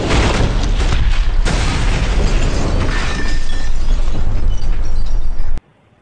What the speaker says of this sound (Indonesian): Daeho pun langsung meledakkan rumahnya untuk menghilangkan jejak.